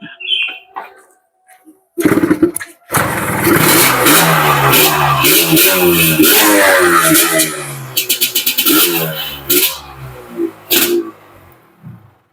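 A 1991 two-stroke motorcycle engine, heard after a brief quiet start, fires up and revs in a loud, raspy burble with repeated throttle blips, close by, before cutting out near the end.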